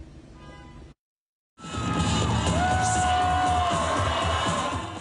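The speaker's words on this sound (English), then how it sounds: "Congresswoman Karen Bass and Senator Bernie Sanders get a rock star welcome from the crowd" A crowd at a campaign rally cheers and shouts loudly for Congresswoman Karen Bass and Senator Bernie Sanders. A brief murmur cuts to silence, then a sustained roar of applause and whoops rises, with a high whistle cutting through.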